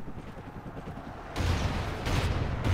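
Bombing from a Hind helicopter in Call of Duty Ghosts multiplayer: a rumbling barrage of explosions that suddenly swells loud midway and keeps pounding, with no voices.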